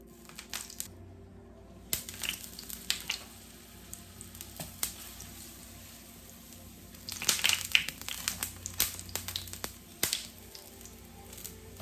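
Oil heats in a pan for Jamaican-style ackee and saltfish with breadfruit, giving a steady close sizzle with crackles and pops that grow denser and louder toward the end, and no talking over it.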